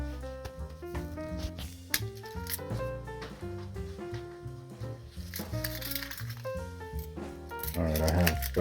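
Car keys for a 1955 Cadillac Coupe DeVille jingle and clink as they are handled inside the mildewy cabin, with sharp metallic taps and rattles scattered between quieter rustling.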